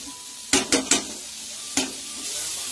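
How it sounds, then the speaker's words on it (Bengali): Vermicelli being lightly fried in a pan with green chillies, salt and vegetables: a few sharp scraping stirs over a steady soft sizzle, close and alone. "আর হালকা ভাজা করে নেব।"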